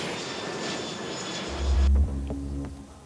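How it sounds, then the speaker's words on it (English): Plane taking off with Spanish citizens bound for a hospital facility in Madrid: a broad engine roar that fades, then a loud low rumble swells in the second half and holds, with no voices. "the first plane to take off, carrying Spanish citizens to a hospital facility in Madrid"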